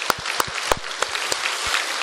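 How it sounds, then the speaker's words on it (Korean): A church congregation at Sunday worship applauds to congratulate new parents and grandparents, a steady rush of clapping with distinct louder claps popping out at a rhythmic pace. "뜨거운 박수로 우리 축하했습니다"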